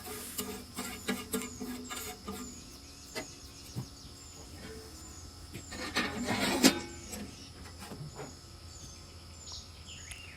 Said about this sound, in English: Just scraping some of these onions off of here. Some of the grease.